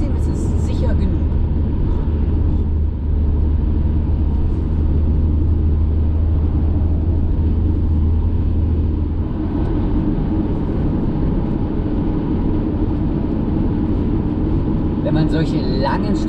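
A car driving at night on a long road trip with a dog aboard, a steady loud low rumble of engine and road noise throughout.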